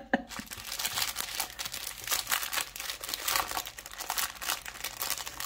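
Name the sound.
opening a plastic package of diamond painting kit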